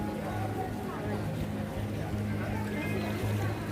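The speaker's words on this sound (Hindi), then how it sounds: "काफ़ी तेज़ी से पानी आप देख सकते हो आ रहा है।" Fast-flowing river water rushes past Daksh Ghat in Kankhal, Haridwar, making a steady, loud, close roar throughout while someone talks over it.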